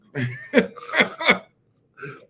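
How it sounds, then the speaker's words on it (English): Two people cough in turn, a few rough bursts close to the microphone, then a short pause and one softer final cough. "Why are we both coughing?"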